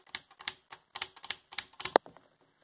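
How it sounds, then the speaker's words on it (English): A Fall 2016 XMIT Hall effect mechanical keyboard with stiff 70-gram springs has one key hammered about a dozen times in fast, even succession, each press a crisp, close clack, ending in a sharper snap as the keycap pops off. "pressing a key like hundreds of times in a way that would cause it to fly off"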